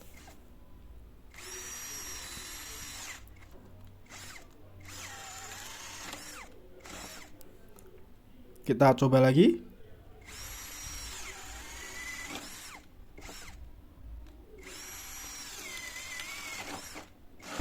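A cordless drill with a 16 mm spade bit at speed 2 whirs steadily through Javanese teak with brief pauses, its motor surging in short bursts, and one harsh grinding burst midway as the bit bites; a voice speaks briefly.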